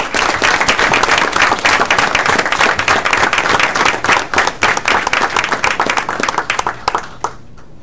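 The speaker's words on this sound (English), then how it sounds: "Let's give him a round of applause." Loud, sustained audience applause at a city committee of the whole meeting, dense clapping filling the hall for several seconds before thinning out and fading near the end.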